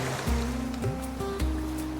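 Water from Mill Creek in a canyon of the Angeles National Forest, near Hidden Springs, pours past nearby in a continuous rushing wash, with low surging pulses and a faint tonal ring beneath it.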